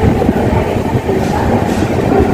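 The Mysore Jaipur Express departs Ballarshah station with a steady, close, low rolling rumble of railcars that lasts through the short stretch. A faint voice may sit under it.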